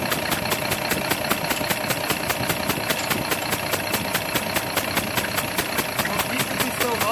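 Car engine idling steadily during a cylinder test as a fifth piston is brought in, a continuous loud, even running note with fine regular pulsing throughout, no clear voices over it.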